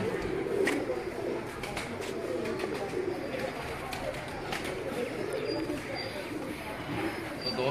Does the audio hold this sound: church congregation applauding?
no